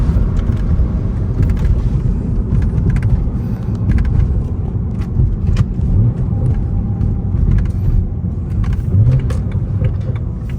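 BMW E9x with an N55 engine and ARM Motorsports short intake, heard from inside with the windows up: a steady, loud, low engine rumble and drone from a nearby car throughout, with no speech.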